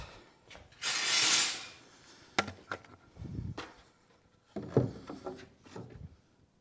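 Screws are driven into the wooden benchwork of an HO model train layout, heard as a short whirring burst from a power driver followed by scattered clunks, ratchety clicks and handling knocks nearby.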